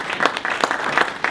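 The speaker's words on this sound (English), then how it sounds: "Let's give them another round of applause." Applause from a panel discussion audience, a short round of moderately loud, uneven claps with distinct individual hand strikes standing out over about a second and a half.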